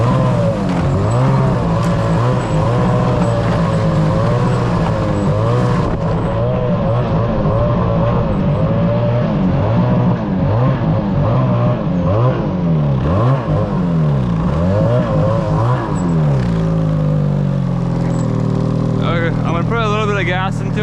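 A Summit snowmobile engine runs loud and close on bare ground with no snow, its pitch sweeping up and down as the throttle is blipped and revved repeatedly.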